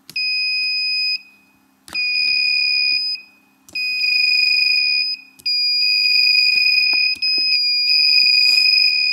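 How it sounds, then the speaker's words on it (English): A piezo buzzer on an Attiny85 breadboard intruder alarm prototype sounds a shrill, steady electronic tone in five long bursts separated by short silent gaps, loud and close, with faint clicks between. "We're working towards making an intruder alarm."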